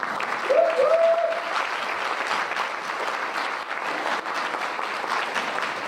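Warm audience applause at a summit keynote for ambassadors, a dense, sustained wash of clapping from a large room with a brief voice near the start.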